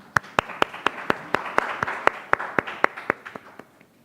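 A small audience claps for a student contestant at a youth speech competition, with a few sharp, distinct claps standing out over a softer smattering that builds and then tapers off.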